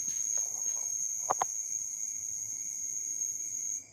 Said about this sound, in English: Was that a grasshopper? Is that the sound that grasshoppers make?